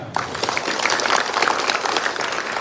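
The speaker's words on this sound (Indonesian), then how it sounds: "Cuba tepuk tangan sekuat-kuat yang saya boleh dengar." An audience claps hands hard and fast, a dense, loud, steady burst of applause lasting a few seconds with no voices over it.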